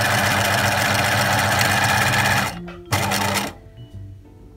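A sewing machine stitches fabric for a drawstring bag in a fast, even whir that stops abruptly, then gives one short burst before falling quiet with faint background hum.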